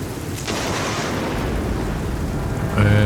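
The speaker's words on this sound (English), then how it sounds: "Oh, it's raining." Rain and thunder in a farming and ranching video game, a steady broadband wash of rainfall with a deep rolling rumble that swells toward the end, no voices.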